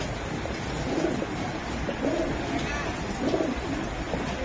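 Racer pigeons coo in soft, repeated rolling phrases close by, with low murmuring voices and a steady background hum.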